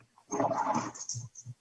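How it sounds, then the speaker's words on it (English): A pet dog barks and growls close by indoors, one rough drawn-out bark followed by a few short low woofs in quick succession. "sorry, that's my dog."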